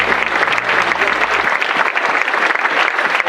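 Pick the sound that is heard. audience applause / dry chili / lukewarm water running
audience applause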